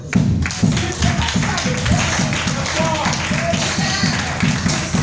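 A church congregation claps in a steady, quick rhythm to acclaim the Lord, the beats strong and even throughout, with voices singing or calling out over them.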